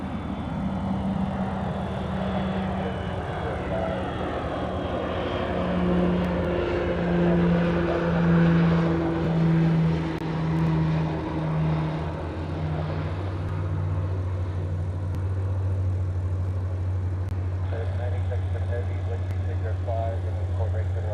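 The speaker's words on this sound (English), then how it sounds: "This is a FedEx MD-11 Tri-Jets for life." A FedEx MD-11 trijet airliner passes overhead in the distance, its engine drone rising and falling in pitch over about twenty seconds, with people talking on and off around it.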